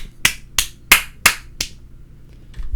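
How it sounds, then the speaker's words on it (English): Five sharp, evenly spaced hand claps, close and loud, ring out one after another at a steady pace and then stop, with nothing else heard. "Jesus claps his hands."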